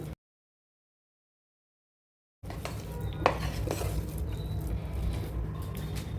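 Dal and jaggery being stirred together in a pan over a low flame for bobbatlu filling: soft scraping and clinking of a spoon against the pan, with a low steady cooking noise, heard alone after a short silent gap.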